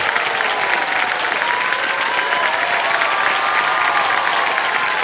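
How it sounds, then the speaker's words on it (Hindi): A studio audience on a Hindi television quiz show claps loudly and steadily, a dense, sustained wall of applause that fills the whole stretch with no break. "बड़ी कृपा है आपकी, इतनी जोर से ताली बजा दिया।"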